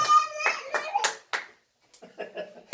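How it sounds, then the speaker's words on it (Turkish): A few sharp hand claps at a family gathering at home, brief and close, mixed in among excited voices and a child's chatter, with a short pause before more scattered claps and talk. "Haydi alkış."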